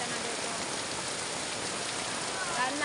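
Rain falls steadily on a quiet outdoor court, an even, dense hiss of drops on surfaces that stays constant and moderately loud throughout.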